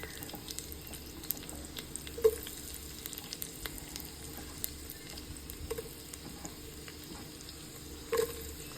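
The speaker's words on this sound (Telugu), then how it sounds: "దీంట్లో కట్ చేసి పెట్టుకున్న ఉల్లిపాయ ముక్కలు కూడా వేసుకుని బాగా ఫ్రై చేసుకుందాం" Chopped onions frying with spices in a pan for country chicken pulao: a steady, soft sizzle throughout, with two sharper stirring clinks standing out, no talk.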